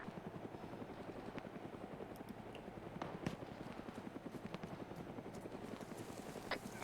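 A Huey helicopter in a military video game beats steadily with rapid, even rotor chop at a moderate distance, continuous throughout with no talk.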